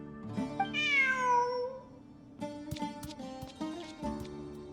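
A cat from the Genshin Impact video game meows clearly, with one long drawn-out meow followed by a few shorter, softer mews over faint game background sound.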